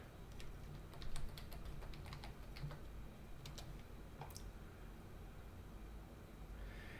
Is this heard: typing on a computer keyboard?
yes